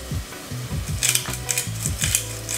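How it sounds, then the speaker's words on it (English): Onions with cardamom, cinnamon and other spices sizzle steadily in a pan while being stirred, with repeated scraping strokes of a utensil and clinks against the pan, close and continuous. "I'm just gonna keep stirring it and letting it like toast for a little bit"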